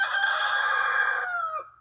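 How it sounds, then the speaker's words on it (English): A loud, close rooster crow, one long drawn-out call that trails off at the end. "as the rooster crows."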